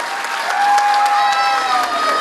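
Crowd at a dance academy annual function claps and cheers loudly, with a sustained whistle or tone running through the applause.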